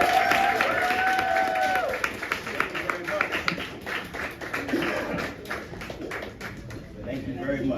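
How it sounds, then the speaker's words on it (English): An audience at a fellows' final presentation event claps for a group that has just presented, a close, crisp patter of hands that thins out toward the end, with people talking over it. "Give it up for Group 4. Round of applause."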